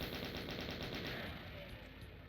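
Rapid bullet gunfire in the video game Doom, a fast repeating burst of shots running continuously through the short stretch, fairly loud and close.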